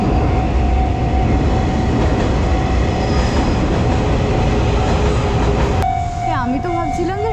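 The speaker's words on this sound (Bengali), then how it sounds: "ট্রাম না ট্রেন গেল" A train passes close by in a Japanese city, a loud continuous rolling rumble of wheels on rail with a steady tone running through it and a brief rising whine near the end.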